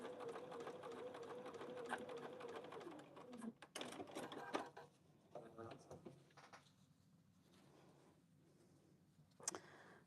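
A sewing machine stitches fabric scraps in a steady buzzing run for a few seconds, then falls quiet into scattered clicks and handling knocks, with a voice present in the room.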